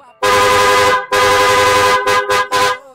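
A loud car horn blasts in four bursts, two long honks followed by two short quick ones, close by.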